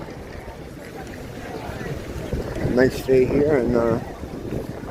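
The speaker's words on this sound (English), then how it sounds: "Windy, sunny but windy." A low wind rumble buffets the microphone under someone speaking casually outdoors on a sunny day in Waikiki, Honolulu.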